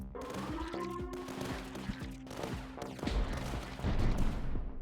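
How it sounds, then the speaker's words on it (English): Mortar bombardment on a front barricade in the Tower Dominion strategy game, a busy stream of overlapping explosions and firing thuds over a layered game soundtrack, growing heavier toward the end. "an extra mortar position lets me bombard this front barricade some more"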